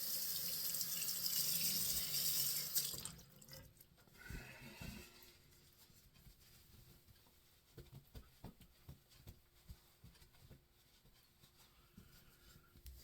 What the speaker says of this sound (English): Okay, I'm gonna rinse.